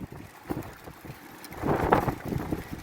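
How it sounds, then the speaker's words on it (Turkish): Gusty wind buffeting the microphone, rumbling low and rising stronger in the second half, with no voices. "Felaket de rüzgar var."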